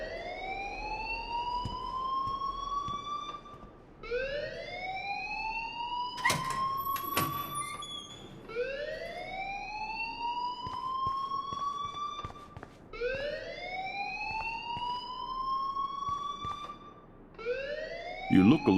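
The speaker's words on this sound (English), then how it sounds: "please turn off that alarm since that's your job" A fire alarm in the video game Life is Strange wails in repeated rising sweeps about every four seconds, loud and steady, with a few sharp clicks and thumps mixed in.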